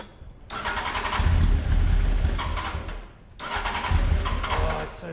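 Motorbike engine revving hard in bursts, two loud surges of throttle separated by a brief dip, with a low rumbling idle between them and a voice briefly heard nearby.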